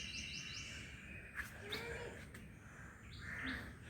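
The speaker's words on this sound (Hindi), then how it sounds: "ये चिड़िया होती है, ये उनकी आवाज़ है।" Small birds chirping outdoors on a hot day, short high tweets repeating over a steady low background hum, faint and somewhat distant.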